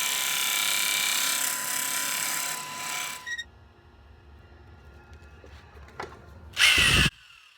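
Woodturning on a lathe with a pointed deep hollowing tool shattering material away: a steady loud grinding roar for about three seconds, then quieter scraping and clicks, and a final loud one-second burst of cutting.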